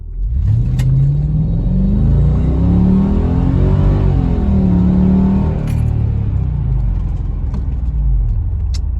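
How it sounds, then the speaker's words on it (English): A Mercedes ML55 AMG launches hard, its engine roaring loud and close as revs climb, briefly dip at a gear change, then rise again in a sustained rumbling pull, with no voices. "All right, guys, little launch real quick."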